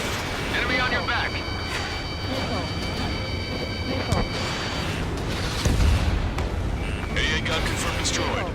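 Explosions destroying an anti-aircraft gun in Ace Combat 7, with rumbling booms and blasts over jet and battle noise, heavy thuds around the middle, while a voice talks over the action.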